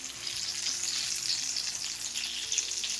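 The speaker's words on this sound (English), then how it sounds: "we're going to let the pies fry for about 3 minutes" Southern fried sweet potato hand pies sizzle steadily in hot oil, a dense continuous crackle with a faint low hum underneath, close and fairly loud, with no talking.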